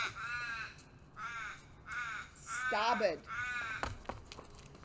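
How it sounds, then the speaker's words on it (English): Crows caw in several short bursts of hoarse calls, moderately close, with a voice speaking a single word midway through. "Sorry about the crows, friends."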